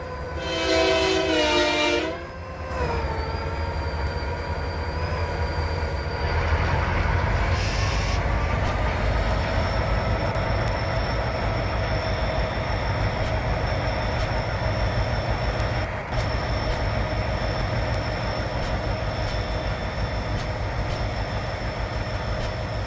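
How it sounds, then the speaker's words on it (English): Train engines in the Trainz video game: a loud horn blast opens, then a heavy locomotive engine drone rumbles steadily throughout, with a high whine and occasional clanks. "It's probably because of how loud these engines are."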